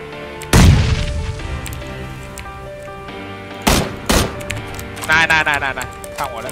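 Gunfire in a shooter video game: a heavy boom-like shot early, then a pair of sharp bursts near the middle and a quick rattling volley toward the end, loud and close over background game ambience.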